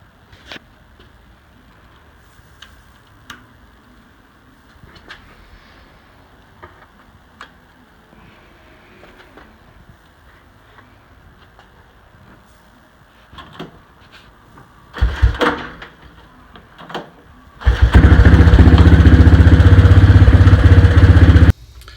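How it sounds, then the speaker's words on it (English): A pull-start Honda four-stroke ice auger sits quiet with light clicks and handling noises, then a couple of sharp pulls are followed by the engine firing and running loud and steady for the last few seconds. "it's very easy for me to start it. I think that was 2 or 3 pulls. It's a pull start Honda."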